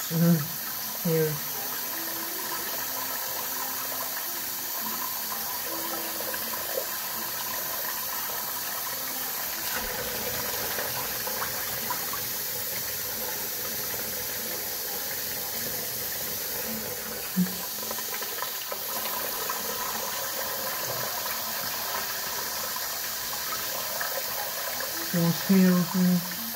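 Running water from a sink faucet gives a steady hiss while hair is washed, with a voice murmuring now and then at the start and end.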